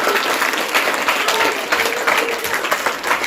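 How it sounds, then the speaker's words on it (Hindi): Loud, dense applause from a school audience at a welcome ceremony, steady clapping filling the whole moment without a break. "एक बार जोरदार तालियों के साथ।"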